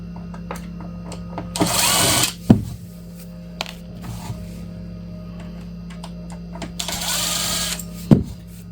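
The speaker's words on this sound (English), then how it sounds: "I'll use a drill to go faster on the loosening side." Two short, loud bursts of a power drill whir as it loosens drawer screws in a Winnebago View motorhome, against a steady low hum, with scattered clicks and knocks between them.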